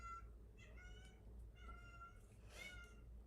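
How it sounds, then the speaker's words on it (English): A pet cat meows insistently outside a door, asking to come in; several drawn-out, rising meows come in separate bursts over a steady low background hum, the last one loudest. "she's out there meowing like a wild woman"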